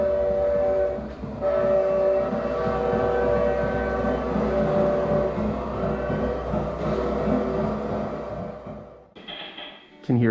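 A steam-era train pulls into Port Moody Station in a museum's old-town exhibit, a steady rumbling roar with a whistle-like tonal wail, loud and continuous before cutting off near the end.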